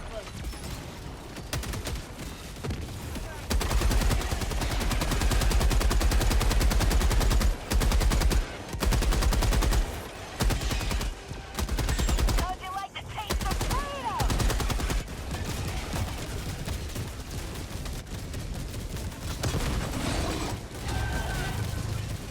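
Rapid rifle gunfire in a video game, a dense, loud run of near-continuous shots over several seconds with brief pauses, mixed with mechanical clatter and a voice talking.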